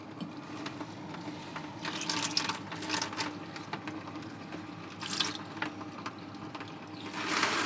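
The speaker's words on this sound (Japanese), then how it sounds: "今ボイラーつけてるからお湯も出ますかね。" Boiler-heated hot water runs steadily from a tap, splashing into a basin with surging bursts of spray, fairly close and continuous.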